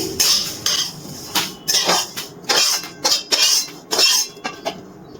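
Roasted whole spices being scooped from a kadai onto a plate, a close series of sharp metallic clinks and scrapes of a utensil against metal in an irregular rhythm, loud and without talk.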